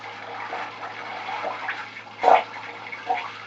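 Hot frying oil sizzling in a pan while chicken chunks fry: a steady close hiss with crackling bursts, swelling into a louder pop-filled surge near the end, no talking.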